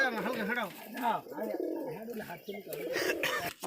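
Pigeons coo close at hand in repeated rolling, throaty calls, loud and overlapping, with a person speaking nearby.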